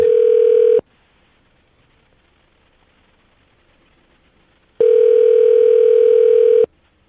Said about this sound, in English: That's a horrible phone line